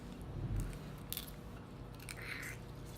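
Freshly caught and cooked crab from Newport, Oregon being eaten, with faint close biting and crunching bites over a low background hum; nobody speaks.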